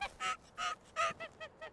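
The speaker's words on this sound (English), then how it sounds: "We also have ducks here" Ducks quack in a village in the Medieval Dynasty video game, a series of five or six nasal, honking calls in a quick, uneven rhythm. They are fairly faint and heard alone, with no voices.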